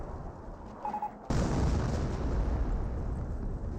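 Artillery barrage landing in Company of Heroes 1, a sudden loud blast that opens into a dense, sustained roar of explosions and debris rumble after a quieter stretch with faint battlefield sounds.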